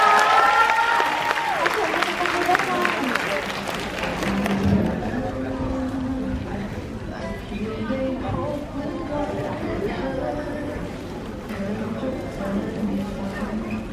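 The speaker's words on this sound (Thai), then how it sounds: "ขอเสียงปรบมือด้วยค่ะ" Audience applause at a surprise appearance at a Major Cineplex Ratchayothin event, starting loud and dense, then thinning into a lower crowd murmur with scattered sounds over the remaining seconds.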